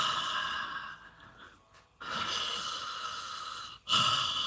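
A voice imitates a heavy breather with a long loud sigh-like exhale, a pause, another drawn-out heavy breath, then a third sharp breath starting, close and alone with no words.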